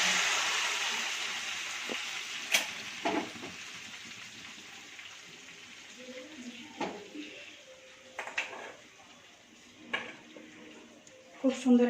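A spoon stirs a pot of lentils for haleem just after hot oil is poured in, giving scattered scraping clinks and soft sizzling, fairly faint over a quiet background hiss.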